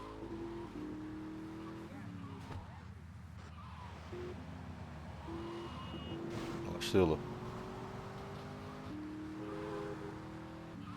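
A stolen car drives in GTA Vice City, its engine note rising and falling through gear shifts, with a brief loud crash or skid midway, under Turkish-speaking voices.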